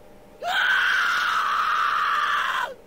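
A Corpse Party character lets out one sustained high scream, starting abruptly and holding steady for about two seconds before cutting off, loud and alone.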